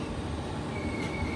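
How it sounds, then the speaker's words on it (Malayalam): Steady rumble and rolling wheel noise of a passenger tourist train with a Vistadome coach, heard from inside as it slows to a stop, with a faint squeal from the wheels partway through. "ട്രെയിൻ നിർത്തി ഇവിടെ"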